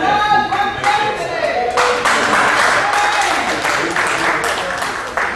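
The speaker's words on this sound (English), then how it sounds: "let's hear another round of applause" Audience applause at a Marcus Garvey Global Renaissance gathering in 2007, a loud, dense burst of many hands clapping that swells and holds for several seconds, with voices mixed in.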